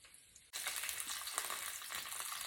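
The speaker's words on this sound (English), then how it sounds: "Can you hear that sizzling?" Corn brushed with olive oil sizzles fresh out of the broiler, a loud, steady hiss with crackling pops that starts abruptly after a quiet half-second and stays close and sustained.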